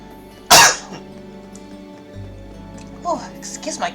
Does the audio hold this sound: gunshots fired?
no